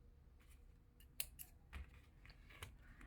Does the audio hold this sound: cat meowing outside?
no